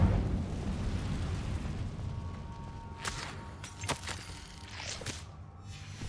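An Incendio fire spell cast in a video game, heard as a low rumbling whoosh followed by several sharp crackling bursts and pops, fairly loud and close.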